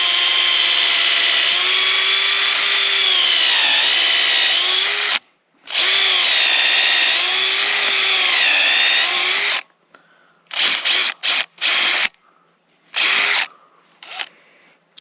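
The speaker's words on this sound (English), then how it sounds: "then just drill a hole straight in about 2 inches." Cordless power drill boring a 2-inch tap hole into a maple tree trunk, a loud close whining motor that runs steadily for about ten seconds with one short break, then ends in several quick bursts.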